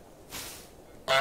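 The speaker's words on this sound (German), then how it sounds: "Achtung, zum Schnattern Y drücken." A cartoon goose honks in Untitled Goose Game, two short nasal honks: a softer one early, then a loud, sharp honk at the end, with no talking.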